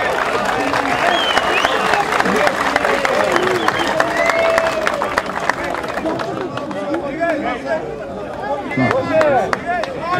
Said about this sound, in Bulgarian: Нашето аплодисменти.